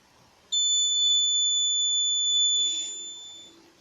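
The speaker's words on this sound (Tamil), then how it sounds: "ஃபஸ்ட்டு பீப் சவுண்ட் வந்த பிறகு, அது முடிஞ்ச பிறகு இது வருது" An Arduino RFID reader's buzzer gives one long, loud, high-pitched electronic beep of about two and a half seconds, alone in a quiet room, then tapers off into a faint mechanical whir.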